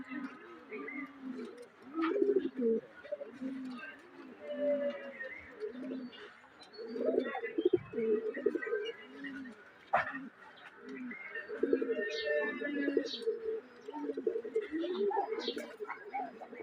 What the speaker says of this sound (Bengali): আরো আসতেছে কবুতর